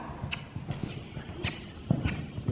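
Horse cantering in a riding arena, hooves striking the ground in a quick, steady rhythm at moderate distance, fairly soft, with faint background noise.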